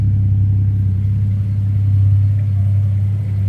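A Ford Falcon Ghia Turbo with its rear resonator removed idles with a deep, steady exhaust burble, close and loud, a constant low drone with no talk over it.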